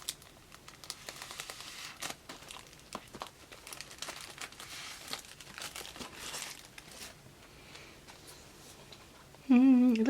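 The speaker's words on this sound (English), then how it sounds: "let's unbox this Apple Pencil" Apple Pencil packaging is handled and opened at close range, giving a run of crinkling, rustling and small tearing sounds, then a brief louder scrape near the end.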